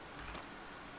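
Rain falling in a Minecraft mangrove swamp, a soft steady hiss of rainfall, faint and even throughout.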